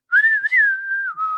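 A single person whistles a short, smooth melodic phrase in a clear, close tone, heard alone without talk.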